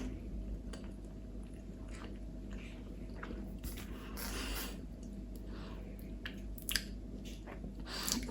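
Someone bites and chews a vegan Scotch egg made with plant pork, cheese and pickle, giving soft, moist squishy bites and mouth sounds close to the microphone, with no talking.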